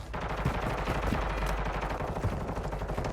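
Continuous automatic gunfire from Call of Duty Warzone 2, a dense, steady rattle of rapid shots that runs throughout without pause.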